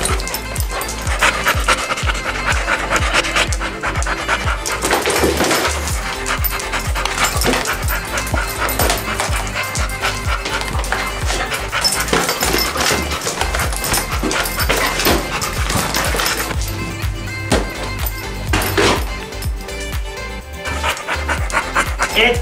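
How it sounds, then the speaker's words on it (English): Puppies panting heavily and continuously up close, with occasional whimpers and a jingle of movement, without pause. "It's puppies."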